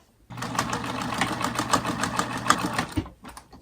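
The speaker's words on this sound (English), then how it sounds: "another thing I like about this sewing machine" A sewing machine with metal bobbins runs steadily for about three seconds, a fast even mechanical whir of stitching that stops abruptly, close and fairly loud.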